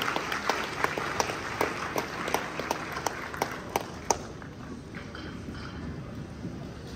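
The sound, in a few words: applause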